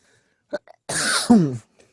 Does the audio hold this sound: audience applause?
no